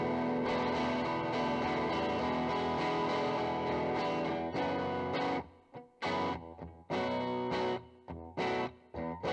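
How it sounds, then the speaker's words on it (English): Electric guitar played through distortion and chorus-style effects in a Cubase mix: a loud, dense sustained wash of chords that breaks midway into choppy, stop-start strums separated by short gaps of silence. "what I really want is just a good guitar sound"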